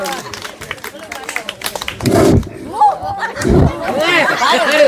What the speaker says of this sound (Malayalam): എല്ലാവർക്കും വേണ്ടി കൈയടിച്ച് പ്രോത്സാഹിപ്പിക്കണേ